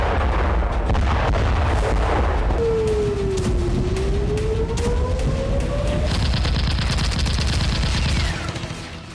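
Heavy bombardment in the Israel-Hezbollah war, with continuous loud booming blasts and rumbling gunfire filling the whole stretch, a whistling projectile sweeping through the middle and a high tone later on, no talk.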